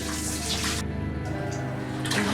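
Water is scooped and poured by hand into a toilet bowl to flush it. The splashing and gushing is loud and close and continues unbroken for a couple of seconds, with no talk over it.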